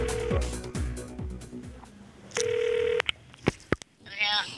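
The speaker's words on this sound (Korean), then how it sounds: "제작진은 도박 기술을 배우고 싶다는 학생과의 전화 연결을 시도했다" A telephone call being placed: a steady tone, then a series of short dialing beeps and clicks, with some speech heard beforehand and a brief ringing burst at the end.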